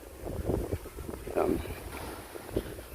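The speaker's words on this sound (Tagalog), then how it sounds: "malakas ang hangin" Strong wind on a beach buffets the microphone in gusts, a low rumbling roar rising and falling with a few louder bursts.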